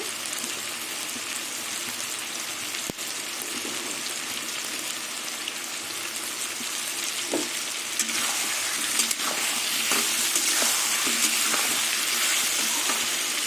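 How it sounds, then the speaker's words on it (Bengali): Steady crackling sizzle of potatoes, onions and tomatoes frying in a partly covered pan, with occasional soft scrapes and clicks and no voices. "এবার আলু আর পেঁয়াজ টমেটো কিছুক্ষণ ঢেকে ঢেকে ভেজে নেব"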